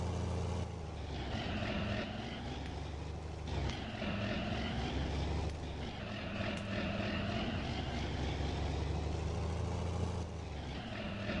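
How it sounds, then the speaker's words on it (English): John Deere tractor engine in Farming Simulator 19, a continuous loud droning engine note with slight cyclic swells and dips, close and steady throughout with no talking. "Why does the John Deere sound completely different?"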